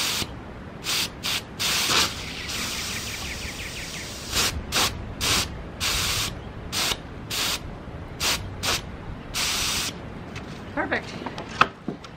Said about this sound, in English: One thing I want to do is test this pressure relief valve.